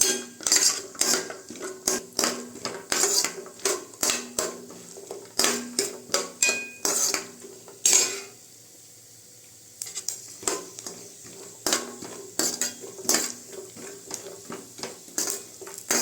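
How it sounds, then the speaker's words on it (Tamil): Steady rhythmic scraping and clinking of a utensil stirring nuts roasting in a pan over a soft sizzle, with a brief pause partway through. "நல்லா பொன்னிறமாக வறுத்து எடுத்துக்கலாம்"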